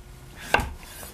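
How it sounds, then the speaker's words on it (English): A knife chopping through butternut squash for soup, one sharp thud against a cutting board, close and brief, with no voices. "I need to chop this up next."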